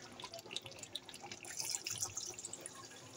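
Water poured into a pot of browned, cooked meat for a Muragira mansa jhola curry, a soft trickling and splashing that is fairly faint and close, with no voices.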